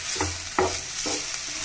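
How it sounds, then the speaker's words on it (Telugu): A spoon stirs thick ivy gourd chutney paste in a pan, three distinct scraping strokes in a slow rhythm over a faint sizzle, close and clear. "ఇప్పుడు మనం దీనంతటిని బాగా కలుపుకుందాం."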